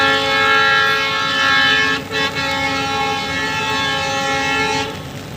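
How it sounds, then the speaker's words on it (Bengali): A train arriving near a truck terminal during heavy monsoon rain, loud and close with a sustained horn blaring over the rumble of the moving cars, a brief dip midway before the horn continues. "আবার এদিকে ট্রেনও চলে আইছে"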